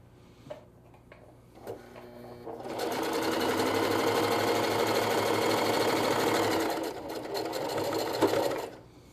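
A Singer HD 4423 sewing machine runs a straight stitch, with a few clicks before a steady, fast mechanical whirring of the needle for about four seconds, then slowing into final clunks; quiet and close.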